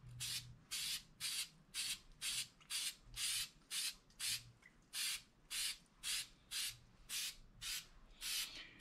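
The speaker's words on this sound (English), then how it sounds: "We're just going to spray some on here." Repeated short bursts of hissing aerosol spray on a KLR650 motorcycle's front forks, about fifteen in a steady rhythm, each a second or less, close by with no talking.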